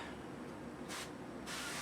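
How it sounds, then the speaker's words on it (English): Two short hissing bursts from an olive oil spray can, close by, separated by a brief pause over a steady background hum. "I have some spray olive oil. I'm just going to give them a little shot right on top"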